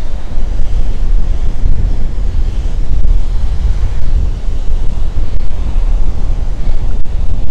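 Ocean waves surge and wash onto the beach at Myrtle Beach, oceanfront, a loud constant roar of surf mixed with heavy wind buffeting the microphone, with no one talking.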